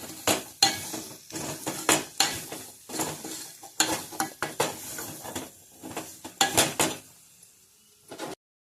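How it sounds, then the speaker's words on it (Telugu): A ladle stirs carrot curry in a pan with repeated scraping and clinking strokes in a busy, uneven rhythm, loud and close, ending abruptly, with no talking. "క్యారెట్లు వేసిన తర్వాత దాన్ని గంటతో అటు ఇటు అనాలి, కలుపుకోవాలి."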